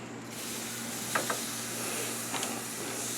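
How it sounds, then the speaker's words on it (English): Thin New York strip steaks on a hot grill sizzle with a constant, even hiss, broken by a couple of faint clicks, and no one speaks. "I've got the grill all warmed up here, and I'll throw our steak on."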